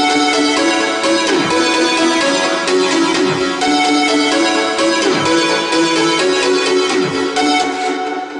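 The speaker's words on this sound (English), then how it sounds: "for the first time we have the lead synthesizer melody here" A bright, sustained trance synth lead plays a melody over a full, loud mix with steady rhythmic pulses underneath.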